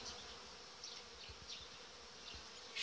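Honeybees buzz around their hives near flowering willows on a warm March day, a faint steady hum with a few louder passes of individual bees close by.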